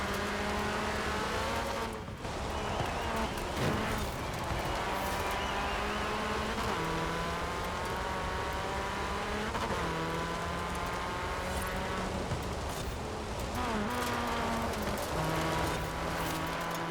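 A car engine in Forza Horizon 4 hums at high revs through a summer championship race, its pitch stepping up and down several times as gears change, with a brief dip in loudness around two seconds.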